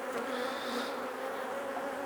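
Honeybees buzz continuously during an apiary hive inspection, a dense, steady swarm hum that stays close and fairly loud throughout, with no speech.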